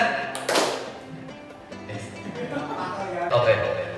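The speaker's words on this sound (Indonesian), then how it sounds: "Tepuk ganda." A group claps twice in unison during a classroom session. The claps are sharp bursts heard over people talking.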